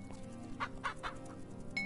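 Chickens clucking in a pen in the Bee Simulator video game, three short clucks in quick succession over a steady background game hum, moderately loud and without talk.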